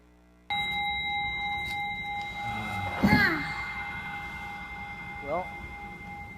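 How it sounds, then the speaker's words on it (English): A mindfulness bell gives a brief struck ring with sustained harmonic tones, followed by a second faint ring a couple of seconds later, over steady background hum. "The bell of mindfulness."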